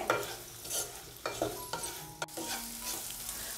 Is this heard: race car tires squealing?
no